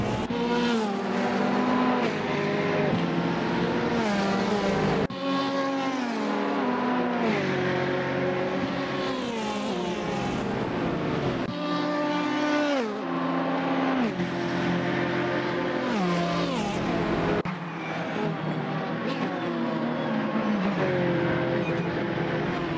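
Race car engine in the Assetto Corsa video game, running loud and steady throughout with repeated rising revs and gear-change dips, tire noise mixed in, no talk.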